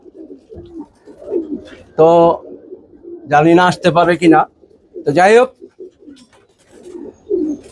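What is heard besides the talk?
pigeons cooing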